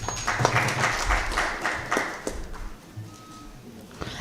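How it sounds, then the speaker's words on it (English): An audience at a G20 youth dialogue applauds, producing a quiet, scattered patter of clapping that thins out toward the end, with faint voices underneath. "I also just want us to clap for Mr. Jabu."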